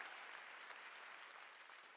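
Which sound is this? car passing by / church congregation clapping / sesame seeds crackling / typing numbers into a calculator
church congregation clapping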